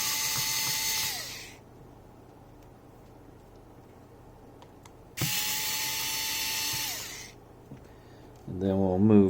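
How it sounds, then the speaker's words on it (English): A small electric screwdriver whirs in two bursts of about a second and a half each, backing screws out of a Galaxy S22 Ultra phone, with each burst's pitch dropping as it winds down; a voice speaks near the end. "Get these screws out of here."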